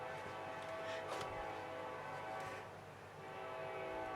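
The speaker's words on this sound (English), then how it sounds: "hear that lonesome whistle blow there." A lonesome train whistle sounds in the distance at night, a steady sustained horn tone held over several seconds with faint rail rumble beneath, no voices.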